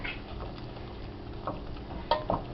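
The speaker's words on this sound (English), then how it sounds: "Going to give it a nice little stir." Pasta sauce being stirred in a pan: soft, intermittent scraping and a couple of light utensil clicks against the pan over a quiet background.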